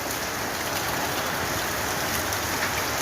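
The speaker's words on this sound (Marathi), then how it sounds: "बरं पाऊस चालू आहे नॉनस्टॉप पाऊस चालू आहे नॉनस्टॉप" Steady, heavy rain pours without a break, a dense, even hiss of drops on surfaces, close and constant throughout.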